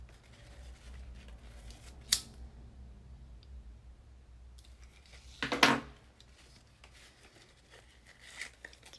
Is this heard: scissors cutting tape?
yes